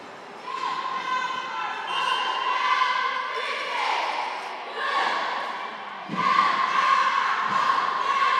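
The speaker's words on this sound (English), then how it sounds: "As you may be able to hear, the Broncos have a lot of cheer, a lot of pep right now" Broncos fans cheer and shout with sustained pep throughout a middle school girls' game in a gym, a loud crowd roar rising and falling with occasional thumps and squeaks beneath.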